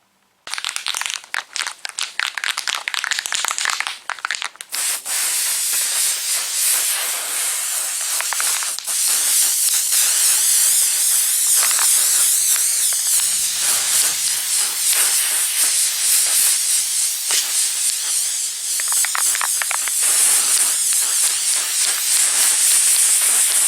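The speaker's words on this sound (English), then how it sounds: "Then I'm gonna spray my Loctite. I'm gonna spray it on this side of the dash." Long, loud hissing bursts of a Loctite aerosol adhesive spray can on a car dashboard, with a few short sputtering sprays first and then a sustained steady hiss.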